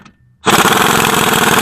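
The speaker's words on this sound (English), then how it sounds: "these upper strut bolts are 22 mil to start, and I'll just go ahead and back those off now" An impact wrench loosening 22 mm upper strut bolts on a 2010 Toyota Matrix: a brief quiet moment, then a loud, close, continuous rattling hammer burst that carries through to the end.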